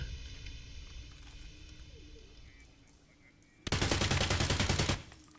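A custom-built rifle in the shooter Escape from Tarkov fires one loud, fast automatic burst of about a second, close and sharp after a quiet lead-in of ambient game noise.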